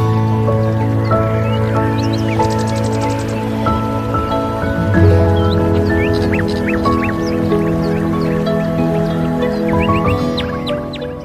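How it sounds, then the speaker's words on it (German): Savoy cabbage being watered in a home vegetable garden, with a steady close patter of water and drips running alone, while birds call in the background throughout. "gieße ich schnell mal den Wirsingkohl"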